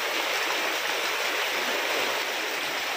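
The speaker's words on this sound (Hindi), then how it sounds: "अभी ये देखिए बहुत तेज बारिश हो रहा है अभी" Heavy rain pouring down on a village home during the monsoon, a dense, steady hiss of water that fills the whole stretch without a break and stays close and loud with no voices.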